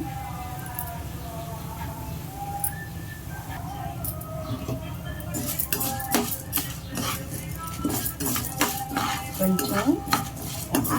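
A metal spoon scrapes and clinks against a pan while stirring ingredients dry-roasting for moringa leaf karam podi, light rustling at first, then quicker repeated scraping, with someone talking throughout.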